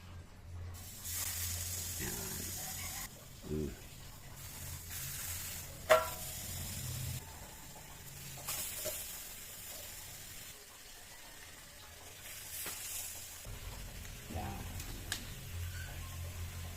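Catfish sizzles on a grill in sporadic hissing bursts that swell and fade, with a soft background crackle and occasional clinks, while a person talks intermittently.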